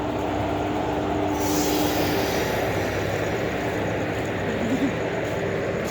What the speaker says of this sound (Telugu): ఇదైతే Visakhapatnam train friends. Visakhapatnam train వ్యాప్ 4.